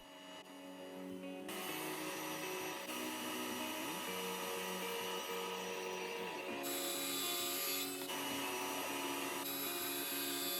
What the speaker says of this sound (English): I'm also pre-drilling holes to attach the base to the bottom of the cupboard.